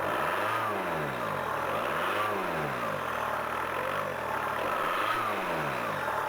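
Diesel car engine running after a repair or fuel outage, held at a steady idle with the revs swelling and falling in slow rhythmic waves, close and continuous with no talk.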